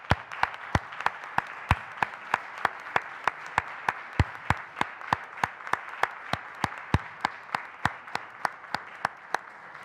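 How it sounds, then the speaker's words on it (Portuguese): Steady, evenly spaced handclaps ring out at a municipal assembly meeting, about three claps per second, crisp and moderately close, continuing without talk for the whole stretch. "vou bater uma salva de palmas ao Vítor Castela."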